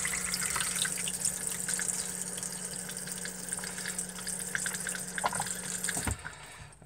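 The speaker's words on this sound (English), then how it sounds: "So to fill up your toilet, simply press this blue button." Water gushes steadily into a camper van cassette toilet after its blue flush button is pressed, with a constant pump hum underneath until the flow stops abruptly near the end.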